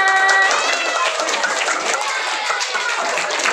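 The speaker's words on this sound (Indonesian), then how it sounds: "Tepuk tangan." Elementary schoolchildren at a Ramadan Islamic boarding-school event clap in a brisk, continuous patter that fills the room, with voices overlapping the clapping.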